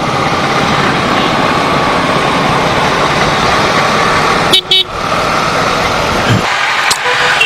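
Dense city road traffic in Bangalore rumbles steadily, engines and a honking horn mixed in, with brief dropouts near the end.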